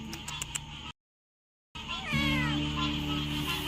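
A cat near a lakeside dock gives a drawn-out, wavering meow after a brief dropout, fairly close and clear over soft outdoor background noise.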